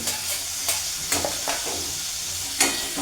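Spices and tomato fry in a pan with a constant sizzle, broken by several sharp spatula scrapes and taps at an irregular pace, no speech.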